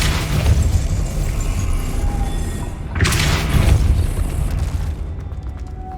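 Depulso spell cast in Hogwarts Legacy, heard as a loud, close boom and burst that surges midway through dense game sound and fades out at the end, with no talk.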